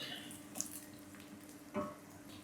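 Onions fry and get stirred in a pan for a chicken liver and gizzard orzo dish, a faint steady sizzle with a couple of soft scraping stirs, close and quiet, with no talking.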